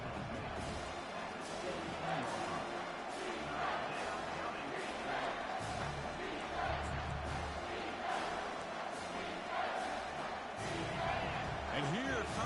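Football stadium crowd roaring during a red zone defensive stand in a Michigan game, a dense, steady wall of cheering and shouting that holds loud for the full stretch.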